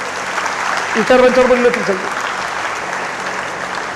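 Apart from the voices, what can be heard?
audience applause for police officers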